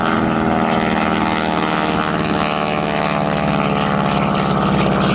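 Loud, steady droning roar of a T-6 Texan propeller airplane performing at an airshow, continuous and close with no speech.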